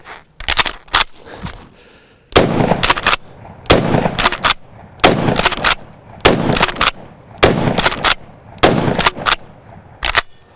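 A Kel-Tec KSG shotgun fires repeatedly, loud close sharp blasts in quick pairs and triplets spaced by short pauses, each followed by the clack of the pump action.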